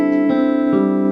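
A barre chord rings on guitar with its root on the fifth string, a single sustained strum with faint finger noise as it decays, close and alone.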